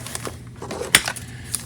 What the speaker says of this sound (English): Let's break out the scissors.